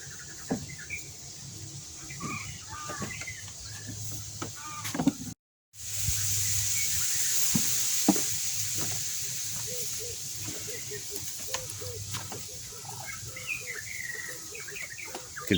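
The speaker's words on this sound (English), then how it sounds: "You can hear all the birds." Birds call from all around a hide at Rietvlei Nature Reserve, scattered chirps and short whistles near and far over a faint insect hiss and soft wind.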